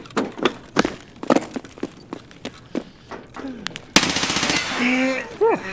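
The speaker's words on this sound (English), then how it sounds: "Scav is shooting at me." In a first-person shooter set in a factory, an enemy Scav fires at the player: sharp gunshots in short, uneven bursts, with footsteps and thuds between them and a louder, denser burst of gunfire near the end.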